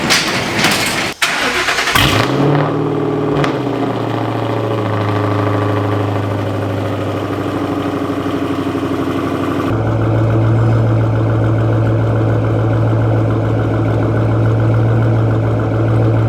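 Ford Mustang engine cranking and firing up after sitting, a brief starter whir then a loud catch and rev before settling into a steady close idle that deepens partway through.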